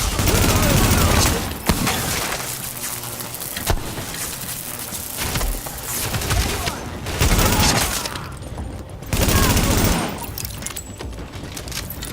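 Gunfire in the video game Tom Clancy's The Division, loud and dense bursts of rapid automatic fire and shots that keep going almost without pause, layered with crashes and game noise, in bursts of a few seconds each.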